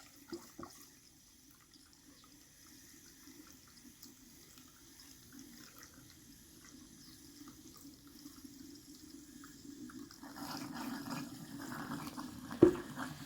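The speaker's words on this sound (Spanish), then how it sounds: "Observen cómo hasta sale disparada la mezcla de bicarbonato de sodio con agua." A baking soda and water mixture is poured into the cells of a car battery, a soft continuous trickle that builds and grows louder with a small sharp splash near the end.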